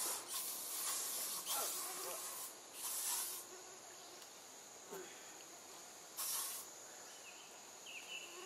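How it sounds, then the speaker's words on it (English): Off Deep Woods aerosol bug spray hisses in several short bursts over steady outdoor noise, with quiet movement sounds between sprays. "spray yourself down while you can"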